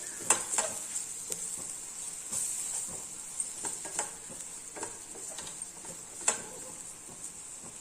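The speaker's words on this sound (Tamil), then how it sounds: "நல்லா வந்து ஒரு தடவை வந்து இந்த எண்ணெயிலே வேக விட்ருங்க" Spice masala frying in oil in a pan for tamarind kuzhambu, a faint steady sizzle broken by soft taps and ticks of stirring.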